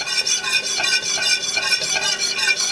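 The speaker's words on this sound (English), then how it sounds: "we're just gonna whisk this until it turns a medium brown" A whisk scrapes and stirs steadily through a butter and flour roux in a pan for Swedish meatball gravy, with repeated close scraping strokes and a faint sizzle, no voices.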